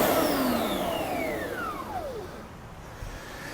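A Tornado CVD 30 vacuum cleaner runs steadily up close with its brush roll, a whining motor tone that drops in pitch as it winds down.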